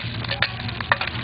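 Onions frying in a hot oiled pan during a chef's cooking demo, a steady close sizzle with brief louder crackles and spatters over about a second.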